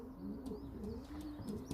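Pigeons coo softly in a loft, low throaty rolling calls overlapping in a gentle rhythm, fairly quiet, with a few light rustles and clicks.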